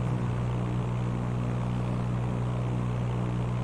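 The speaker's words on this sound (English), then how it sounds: "there's that plane that's coming in for a landing" An airplane comes in for a landing with a steady, loud propeller and engine drone that holds constant throughout, with no voices.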